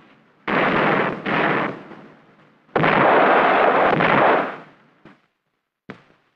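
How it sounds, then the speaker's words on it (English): Two long bursts of heavy, rapid 20-millimeter cannon fire roar loudly in jungle, followed by a couple of isolated distant booms. "In return, they opened up with their 20-millimeter cannon."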